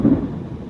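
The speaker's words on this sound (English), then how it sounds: "It's actually thundering" Low thunder rumbles briefly during a rainstorm in New York, heard from outside a parked car.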